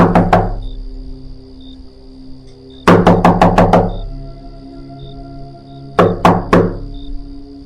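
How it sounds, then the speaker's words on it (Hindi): Loud, hollow knocks pound on a gate in an animated horror story, coming in three rapid bursts of several blows each, ringing out against a quiet, eerie background. "फिर अचानक से उसे जोर जोर से गेट खटखटाने की आवाज आती है।"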